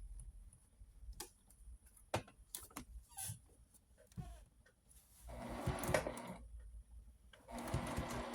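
A sewing machine stitches straight seams through homemade table mats, running in short quiet bursts at first and then in two longer, louder sustained runs of steady rapid needle clatter, close by with no talking.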